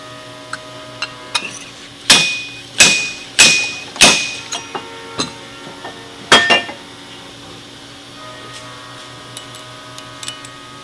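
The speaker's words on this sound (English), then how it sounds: "That means that I've got the seal driven all the way down." A fork seal being driven into a 32mm motorcycle fork tube during a cartridge kit install, heard as about six sharp metallic impacts in an uneven series, close and loud, followed by lighter clinks and taps.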